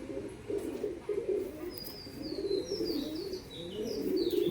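A high-flying colour Giribaz pigeon coos in soft repeated low calls, fairly close, with thin chirps from other birds and a quiet room hum behind.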